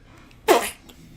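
A single short, sharp human sneeze, close and fairly loud, standing alone against a quiet background.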